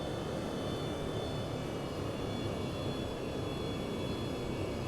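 F/A-18 jet engine at full throttle in the IL-2 1946 flight simulator, a steady, dense, broadband roar that holds constant without a break and with no voices.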